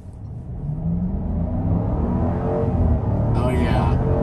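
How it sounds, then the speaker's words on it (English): A 2022 Jeep Grand Cherokee with a Hemi V8 pulls away from a stop, its exhaust rising into a deep, loud rumbling drone that builds and holds, heard from inside the cabin. "From a stop, no problem, it moves. And you got a beautiful exhaust note to boot"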